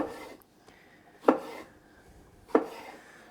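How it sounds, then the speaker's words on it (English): A knife chops vegetables on a cutting board, slicing them into strips for a salad. Two distinct, sharp chops land about a second apart, close by, with quiet pauses between them and no talking. "And then I'll cut them in little strips for my salad, and the rest I'll cut fine for like the salsas"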